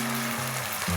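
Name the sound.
chicken added to boiling kung pao sauce, sizzling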